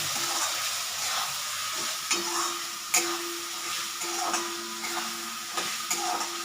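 Spices and potatoes for a spicy aar fish curry are sautéed in a pan, a soft sizzle under repeated scraping stir strokes with a spatula, close and moderately loud, with no talking.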